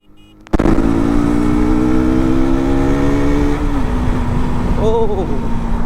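A motorcycle engine roars to life after a quiet moment, then runs loud and steady with a throaty drone, giving a brief rev near the end.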